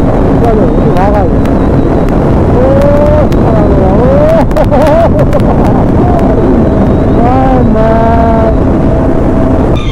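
A motorcycle speeding up at night on a highway, its engine whine rising in pitch through several gear changes, close, with heavy wind noise and someone talking over it.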